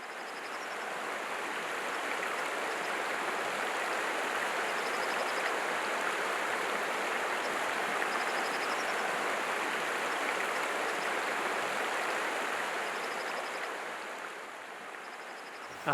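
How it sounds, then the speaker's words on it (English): The Poudre River flows through a snowy winter canyon in Colorado as a steady, broad rushing roar, loud and unbroken throughout, easing slightly at the end. "You always have the sound of the Poudre River in the background."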